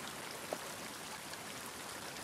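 Soft, steady city rainfall in The Last of Us Part II hisses in the background, faint and even, with a small tap near the start.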